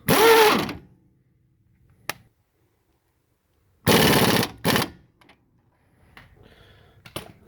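Ratcheting and tightening of nuts on a 2012–2017 Mazda 5 during an output shaft axle seal replacement, heard as a few loud bursts of mechanical clicking separated by quiet gaps, close by.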